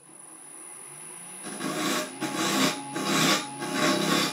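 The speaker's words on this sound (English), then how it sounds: "So what I can do now is just start hollowing out." A woodturning tool hollows out a teak pot on a lathe, a steady scraping rasp that starts quiet and swells into repeated louder cutting passes, close and continuous with no talk.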